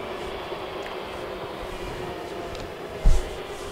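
A TOS W100A boring mill spindle turning at 225 RPM gives a steady machine hum and whir, with a brief louder knock near the end.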